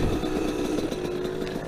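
A 125cc four-stroke dirt bike engine runs steadily at a rough, throbbing mid pitch, close and loud without breaks, with no voices over it.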